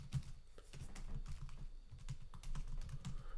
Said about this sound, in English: Let's type in some bikes here.